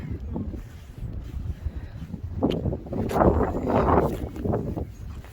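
Wind blows outdoors on an open-air outing, rushing and gusting in uneven surges that build toward the middle, with steady buffeting rumble across the whole stretch.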